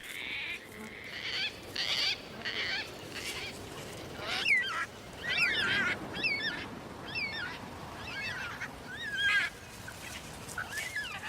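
Gang-gang cockatoos give a series of creaky, rasping calls in short bursts, several overlapping, heard outdoors over a quiet, hissy background.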